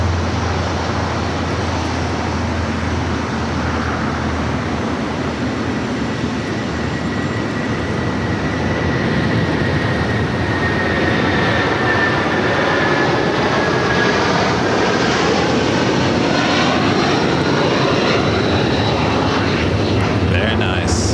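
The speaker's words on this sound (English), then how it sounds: "It's a 747-400 freighter, now rolling it down to 5 right" A Cargolux Boeing 747-400 freighter rolling for takeoff at LAX, a loud sustained jet roar that swells and shifts in pitch as it accelerates, with voices talking over it.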